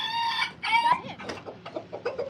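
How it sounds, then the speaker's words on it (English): Close chicken squawks and clucks, two loud drawn-out calls followed by a quicker series of softer clucks. "Chicken."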